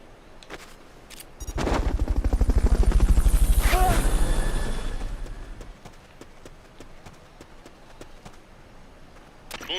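In Metal Gear Solid: Peace Walker, a helicopter's rapid rotor thump swells loudly from about two seconds, peaks, then fades, followed by scattered sharp clicks and taps.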